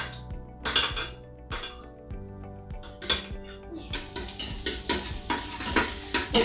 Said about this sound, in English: It's sizzling like that.